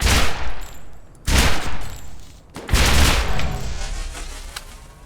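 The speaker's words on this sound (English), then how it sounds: "That's a payload rifle, doggone it." Payload rifle fire in a video game, loud close bursts of rapid shots with long ringing decay between volleys: a short burst, then two sustained barrages that fade out slowly.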